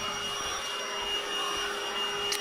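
A Lidl cordless Hoover vacuum cleaner runs with a steady, even whine and airy rush, close and continuous throughout, with no speech.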